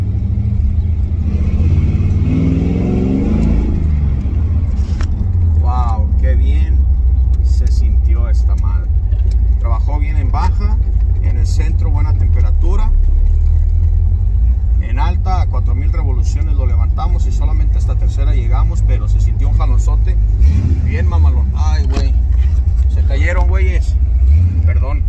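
Ford Mustang Fox Body with a 347 engine drives and revs to about 4000 rpm, a loud continuous low engine rumble rising in a pull, with people talking excitedly over it throughout.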